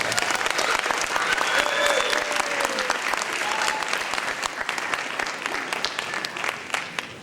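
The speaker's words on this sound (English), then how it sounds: "let's have a round of applause for her" Audience applause at a children's theatre production of "Annie", a steady dense wash of clapping from the crowd lasting throughout, with faint voices and whoops mixed in.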